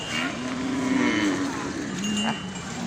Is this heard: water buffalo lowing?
yes